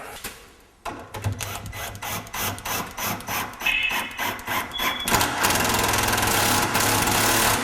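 A power driver sinks a 2.5-inch screw into wood while a built-in range top is installed. Close, loud motor whirs come in short rhythmic bursts, then settle into one long steady run.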